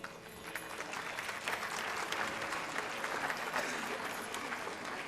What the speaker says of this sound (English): Can't we applaud more for the teachers?